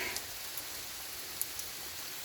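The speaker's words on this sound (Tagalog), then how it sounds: "Tiyempo naman, inabot kami ng ulan." Steady, soft rain falling on a mountain trail on Mt. Apo, Philippines, a continuous hiss of drops with a few brighter patters standing out, fairly quiet and without voices.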